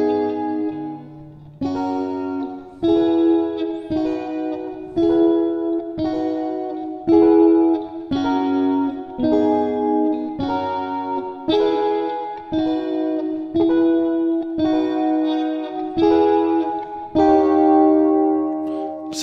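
Electric guitar playing the bridge part of a song, a clean, rhythmic sequence of plucked chords and notes in repeating phrases, close and solo with no talk.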